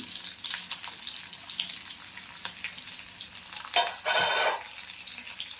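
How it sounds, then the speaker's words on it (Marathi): Sliced onions frying in oil in a pan for a ridge gourd vegetable dish, a steady close sizzle with a louder burst of hissing near the end, no talking. "कांदा थोडंसं ब्राऊन होईपर्यंत थोडंसं तेलात फ्राय करून घेऊ"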